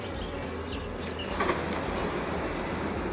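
A swarm of honeybees being shaken into a container during a swarm capture in Bulgaria, a dense, continuous buzzing hum close by with no voices.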